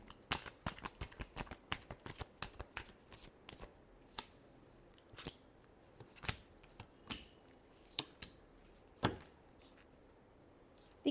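Tarot cards shuffled by hand, a dense cluster of crisp slaps and riffles at first, thinning into separate sharp card snaps spaced a second or so apart, close and fairly quiet with no talk.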